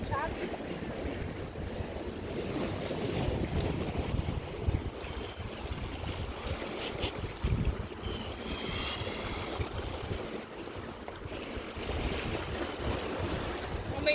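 Choppy waves wash along a Lake Michigan beach, a steady surf roar under gusty wind buffeting the microphone, with no voices.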